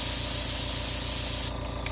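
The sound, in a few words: airbrush compressor running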